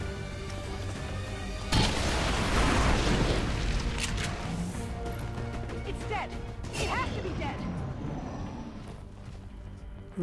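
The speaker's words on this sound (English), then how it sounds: "So I guess Muton will just throw a grenade on us." A Muton hurls a grenade in XCOM 2, and a heavy explosion bursts with a loud boom and crashing debris, then rumbles and crackles as fire takes hold, with a voice talking over the aftermath.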